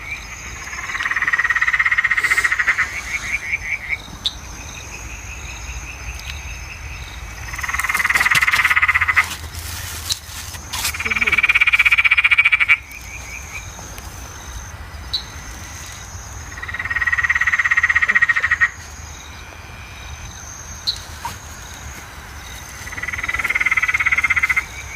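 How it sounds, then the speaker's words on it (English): Eastern dwarf tree frogs, also called eastern sedge frogs, call at night in a chorus. Loud bursts of rapid, creaking croaks come in spaced rounds, with quieter insect-like trilling between them. "All I've got to find now is the brown eastern dwarf tree frog."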